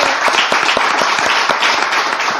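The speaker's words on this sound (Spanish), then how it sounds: "Un aplauso espontáneo." Spontaneous audience applause for Fabián Peralta rolls on continuously, with many hands clapping at close range and a few sharper individual claps standing out from the dense wash.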